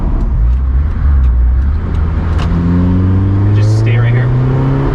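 A 2004 Honda S2000 (AP2) accelerates hard, its engine note climbing steadily in pitch as the revs build, loud and continuous from inside the car, with people talking over it.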